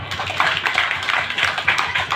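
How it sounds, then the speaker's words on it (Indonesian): An audience at an official Indonesian agricultural event applauds for a provincial governor, a close, fairly loud patter of clapping hands running throughout the short moment without speech. "Tepuk tangan untuk beliau."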